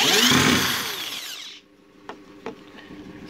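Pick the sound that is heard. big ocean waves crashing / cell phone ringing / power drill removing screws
power drill removing screws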